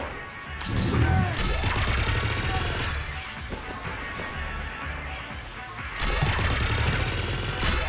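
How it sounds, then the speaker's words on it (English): Mass Effect 3 combat: loud, continuous gunfire and crashing explosions fill the scene, with sharp bursts and heavy smashes layered over a dense battle roar. "Just following the gunfire."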